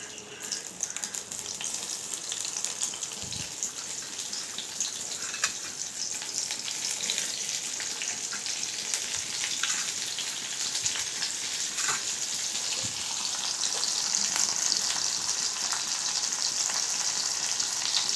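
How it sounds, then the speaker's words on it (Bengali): Chopped onion frying in mustard oil in a wok, giving a steady, dense sizzle that grows slightly louder toward the end, with occasional faint stirring knocks, close and without speech. "এর মধ্যে দিয়ে দিচ্ছি পেঁয়াজ কাটা পেঁয়াজটা"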